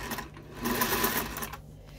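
A sewing machine stitches a hem close to the edge of bedsheet fabric, its motor whirring in a steady, continuous run that swells in the middle and eases off, close by and alone without talk.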